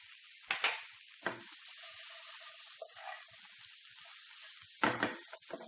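Okra (bhindi) frying in a pan gives a faint, steady hiss and sizzle, broken by a few sharp clatters of stirring or utensil knocks near the start and end.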